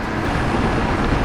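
Wind rushes past a rider's helmet on a scooter moving along the seaside, a continuous broadband roar with no voices.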